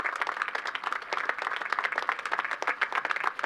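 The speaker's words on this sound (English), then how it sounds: "Let's give them a round of applause." Steady crowd applause at a high school commencement ceremony for graduating AP Scholars, dense clapping from many hands, moderately loud and continuous with no talk.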